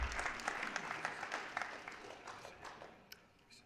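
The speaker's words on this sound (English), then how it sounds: "One more round of applause" An audience at a Karate Combat 43 press conference gives the athletes a round of applause: scattered clapping that starts fairly full and gradually thins and fades, heard at a modest, somewhat distant level.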